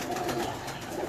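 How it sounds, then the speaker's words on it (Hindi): Pigeons coo at a home loft in a short, dense burst of layered murmuring, close and steady. "जो उनके घर के कबूतर देखें जी"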